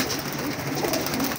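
Pigeons coo steadily in a loft, low throaty calls that repeat close by over faint background noise.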